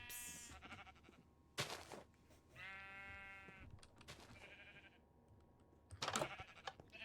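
Minecraft sheep bleat in short, wavering cries against a quiet game backdrop, several calls in succession, interspersed with soft clicking from keyboard and mouse.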